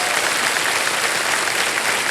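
A KBC studio audience gives a brief, continuous round of applause, dense and even from start to finish, with no speech over it.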